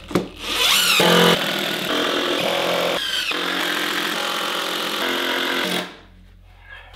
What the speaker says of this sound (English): so I'm gonna put some screws in there as well